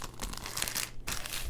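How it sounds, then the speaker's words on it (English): A paper lunch bag booklet base crinkles and crackles in brief, close handling bursts, with a short pause before the rustling resumes. "Now, this is just the base of the construction, and it's nice and crinkly. Comes with that crinkle factor. Oh, I love that noise."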